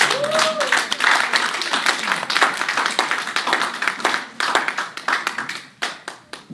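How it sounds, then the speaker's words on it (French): A church congregation applauds, with dense close clapping that goes on steadily for several seconds and begins to thin near the end, with faint voices mixed in. "Acclamons le Seigneur pour cela."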